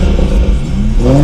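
A BMW B58 inline-six turbo engine revs loudly and close, its pitch climbing steadily through a short burst, with no talking.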